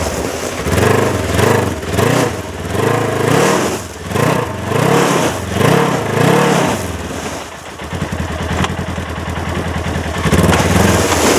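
A Polaris RZR side-by-side's engine revs in repeated loud surges as the clutch engages and the vehicle lunges forward, then settles into a rougher, steadier drone near the end.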